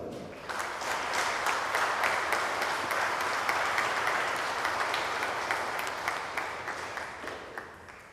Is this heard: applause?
yes